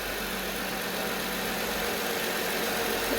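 Engine of a 2017 Jeep Wrangler idling during a thermostat and coolant job, a steady low hum with faint mechanical rattle, continuous and even, heard up close with no talking.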